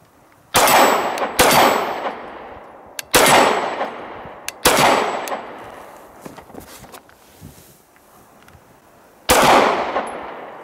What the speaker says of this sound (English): I'm going to shoot 10 rounds out of each now.